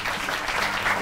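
Studio audience applause for a costumed Batman character on a Brazilian TV variety show, a brief, dense patter of clapping heard throughout.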